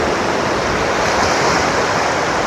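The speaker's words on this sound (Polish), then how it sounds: "jak tutaj ta woda z oceanu napływa" Atlantic ocean water washing in over rocks at Caleta de Fuste, a loud, continuous broadband rush of surf with no pause or voices, close to the listener.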